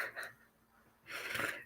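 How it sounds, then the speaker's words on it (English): A tired person yawns twice, a short breathy exhale followed by a longer, louder drawn-out yawn with a strained gasp at its peak, close to the microphone with no talk. "I yawn on camera"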